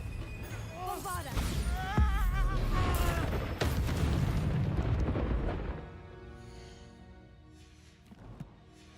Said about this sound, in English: Stupefy. Fringo. Bombarda.